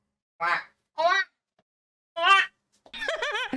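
Three short nasal quacks spaced apart, then a longer wavering call; the sounds may be a person imitating a duck.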